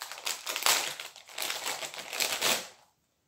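Plastic packaging from a Shein unboxing is torn open by hand without scissors, producing close, steady crinkling and crackling for a few seconds before falling quiet.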